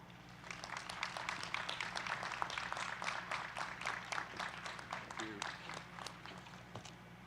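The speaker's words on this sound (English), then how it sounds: "Ladies and gentlemen, please extend a round of applause to Chancellor Darrell T." Applause from the audience at a Fayetteville State University graduation, a dense, steady patter of many hands clapping, moderately distant and fairly quiet.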